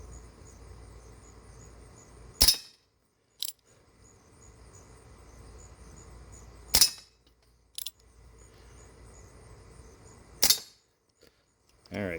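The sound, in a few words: Remington 1875 CO2 revolver shots ricocheting off targets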